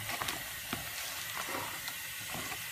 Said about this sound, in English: you're going to stir this until it's nice and even throughout the whole mixture